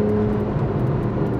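A Porsche 911 (991 generation) Carrera 4S engine hums steadily and loudly from close by, a brief continuous motor drone with no break.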